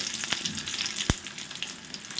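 Crushed garlic, dried red chillies and curry leaves crackle and sizzle in hot oil, with a sharp pop or two standing out from the steady frying hiss.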